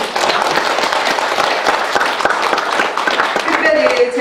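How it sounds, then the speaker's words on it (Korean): Steady applause from a church congregation at an evening revival meeting, dense clapping continuing throughout at a constant level. "한번 박수 한번 쳐주세요"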